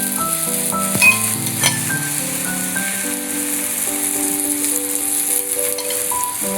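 Thalipeeth sizzling on a hot pan as oil is poured around its edge, a steady crackling fry with occasional soft clinks and spatters, close and continuous, no voices.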